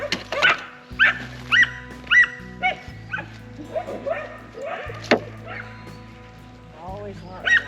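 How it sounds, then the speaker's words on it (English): Several dogs bark in the background near a backyard garden, with repeated short barks and yips scattered through the clip, moderately close, over a steady low hum and some handling noise. "Always lots of barking going on in the background around here."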